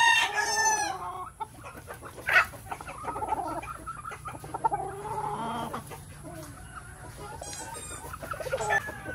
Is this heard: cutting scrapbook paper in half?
no